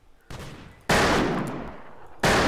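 Pistol shots in a video game, heavy bursts of loud, sharp gunfire that cut in abruptly and ring out, with no talking.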